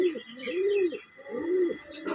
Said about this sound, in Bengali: আমাদের নিজেদেরই বাড়িরই পায়রা